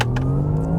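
A 700 hp 2025 Porsche Taycan GTS electric car accelerating at full throttle from 60 to 100 km/h, with a steady, close electric motor whine that holds a constant pitch and no pauses.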